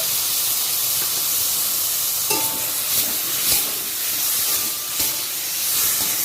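Spice paste of cumin powder, chili powder, turmeric and green chili paste fries in a pan with a steady loud sizzle and hiss, broken by occasional stirring scrapes, close up and with no talking.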